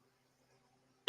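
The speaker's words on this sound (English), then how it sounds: "My apologies for giving you a big cough out" A single loud, harsh cough bursts out at the very end after near silence, close to the microphone.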